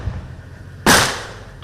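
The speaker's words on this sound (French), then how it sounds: "Des coups de feu ce matin du 27 juin 2023 au large de Semepoudi." A single sharp gunshot cracks loudly during an armed hostage standoff offshore, a sudden blast with a short decaying tail, preceded by a low rumble of background noise.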